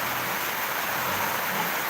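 Steady, dense hiss of heavy rain pouring without pause in Negros, Philippines, a constant broad wash of sound with no voices.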